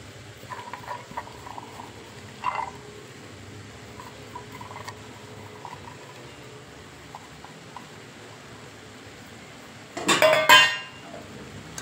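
Soaked chana dal is tipped into a pan of cabbage stir-fry, with a low steady sizzle underneath, a brief clink near the start and a louder burst of pattering and scraping toward the end.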